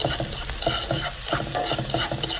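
Food being stirred and mixed in a hot pan for a rice noodle dish with pork and seafood, busy scraping and clattering over a constant sizzle, close and fairly loud, no talk.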